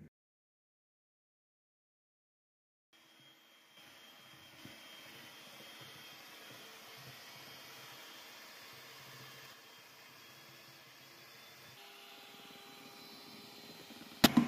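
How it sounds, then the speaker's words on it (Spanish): A kitchen blender runs steadily on salted batter for a rolled sponge cake made with instant flour, starting after a few seconds of silence as a constant whirring drone with no talk, ending in a brief clatter. "Vamos a licuar y ahorita pues continuamos."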